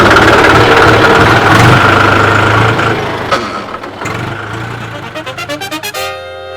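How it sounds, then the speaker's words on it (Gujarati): A tractor engine runs steadily at idle with a low, continuous throb and vibration, then briefly falters before settling into a rougher, pulsing rhythm near the end. "હવે ટ્રેક્ટર ચાલુ કરો, ખેતર ખેડી નાખો"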